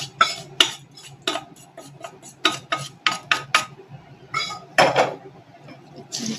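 A spoon stirs curd rice and its ingredients together in a bowl, heard as a brisk, irregular run of close metallic clinks and scrapes against the dish.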